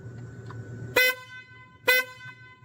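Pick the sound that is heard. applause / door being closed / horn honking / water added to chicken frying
horn honking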